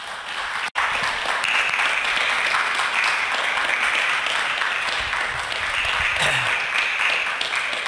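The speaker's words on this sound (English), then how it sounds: "Let's give a round of applause, please." Sustained audience applause for climate scientist Murry Salby at the close of his presentation, a steady dense wash of clapping filling the room from start to finish, briefly interrupted near the beginning.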